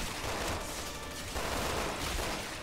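Gunfire in the video game Resident Evil 6, a dense, continuous rattle of rapid shots and impacts mixed with game noise, steady and fairly loud throughout, with no talking.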